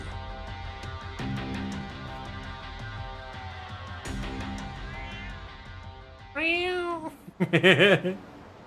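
A cat meows twice in the video game Judgment, loud, wavering cries that come near the end after a stretch of in-game music and ambient tones.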